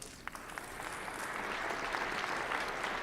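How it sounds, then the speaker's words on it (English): An audience at a county State of the County address breaks into applause that builds and holds steady, heard from a moderate distance in a large hall. "so that is worthy of a clap"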